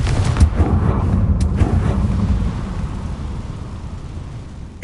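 A Confringo fire spell blast in Hogwarts Legacy lands as a heavy, rumbling impact that opens loudly and rolls on in a deep, crackling wash, fading slowly over several seconds.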